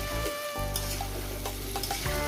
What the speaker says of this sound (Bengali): দিয়ে দেবো টমেটোটা সব কিছু দিয়ে দিলাম এবার সুন্দর করে নিয়ে তিন চার মিনিট করে কষিয়ে নিয়েছি